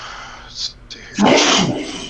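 A single sharp human sneeze bursts out loudly at close range after a brief spoken remark, trailing off quickly, with faint room noise before it.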